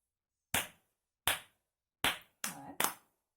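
Five sharp claps made with flat, extended hands in a rhythm exercise, isolated crisp cracks over silence, the last two coming in quicker succession, close and clear.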